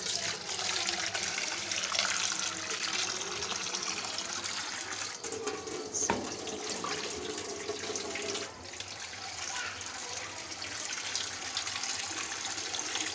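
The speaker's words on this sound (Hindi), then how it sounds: "इसके अंदर जो है मैं और पानी डाल के" Water is poured into a pot for boiling while cooking zarda rice, a long, steady trickling and splashing stream heard close up, with a short clatter midway.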